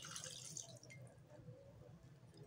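A glass of water is poured into chicken adobo with vegetables, a brief soft trickling and dripping of liquid close by with no talk.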